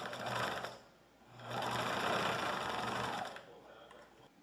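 A sewing machine runs in two steady bursts as it stitches a dart in a fabric face mask, pausing briefly between runs, close and loud with a mechanical whir.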